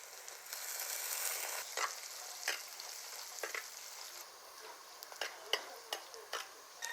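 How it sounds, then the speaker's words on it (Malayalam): Shallots, split green chillies and curry leaves crackle in hot oil, a soft steady hiss punctuated by scattered sharp pops and spatters, close by and fairly quiet, with no one talking. "കുറച്ച് കൊച്ചുള്ളി, ഒരു 5 പച്ചമുളക് 2ആയിട്ട് കീറിയത് ഇതിട്ടൊന്ന് ഇളക്കി കൊടുക്കണം."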